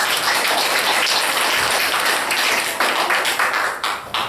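Applause from a congregation at a seminary degree ceremony in Seoul, a dense, steady wash of many hands clapping at close range throughout, with no talk over it.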